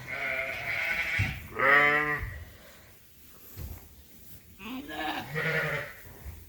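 Lambs about 30 days old bleat in a crowded pen, giving two loud, wavering calls close by with quieter animal shuffling and low voices between them.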